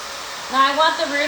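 Hair dryer blowing steadily on long layered hair during a salon styling session, a close constant airy whine, with a voice speaking over it.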